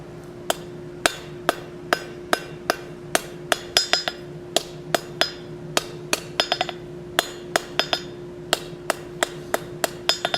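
A blacksmith's hammer strikes hot steel on an anvil while forging a square tenon for a plant hanger: a long run of sharp ringing blows at a steady rhythm, some doubled with quick rebound taps, close and clear.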